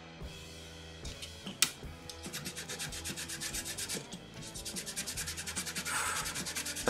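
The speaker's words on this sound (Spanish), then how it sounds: "o hay que lijar" Rhythmic back-and-forth sanding strokes rasp against wooden yacht deck parts, close and steady, speeding up toward the end.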